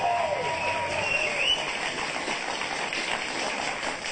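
Studio audience applause on a late-night comedy talk show: a steady, even wash of clapping that runs for the whole stretch without any talk.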